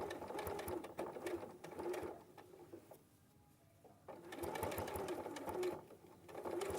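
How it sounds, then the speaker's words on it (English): A sewing machine stitches fabric in quick whirring bursts, pausing briefly in the middle before running again, fairly close and steady. "Something quite nice about watching somebody else sewing, isn't there?"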